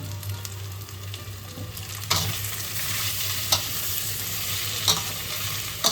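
Potato sautéing in a pan with turmeric, Kashmiri chilli powder and salt: low steady frying hiss under a few clear spoon scrapes and knocks spread across the stretch, with no talking.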